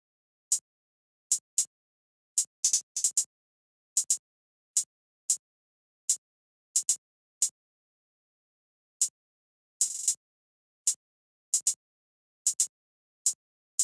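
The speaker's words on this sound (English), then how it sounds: "it's a very simple and basic hi-hat pattern which still sounds like this" Hi-hat pattern from the Stash Volume 3 drum kit: crisp, dry ticks in an uneven trap-style rhythm with quick rolls and doubled hits, separated by silent gaps, played alone.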